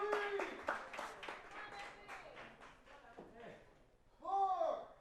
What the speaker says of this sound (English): Got a "This is awesome" chant.